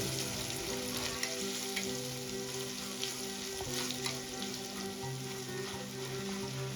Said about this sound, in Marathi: आता या स्टेजला ठेसून घेतलेली अद्रक ऍड करून घेऊया अद्रक पण परतून घ्यायची